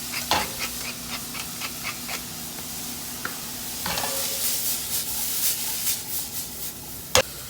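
Diced celery and carrots sweat in a pan with salt and pepper, giving a soft, steady low sizzle punctuated by light clicks and taps of a utensil stirring the vegetables.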